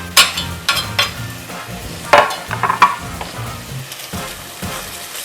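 Finely chopped garlic and oyster mushrooms sautéing in a pan: a soft, steady sizzle with several clinks and scrapes of a utensil stirring, close by and with no talking.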